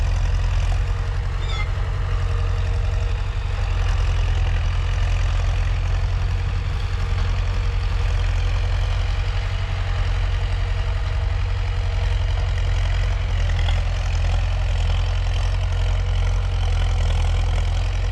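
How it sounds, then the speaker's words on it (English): Tractors idle on a sugarcane farm in Africa, a loud, steady low engine rumble droning without pause throughout. "the tractors are really making noise"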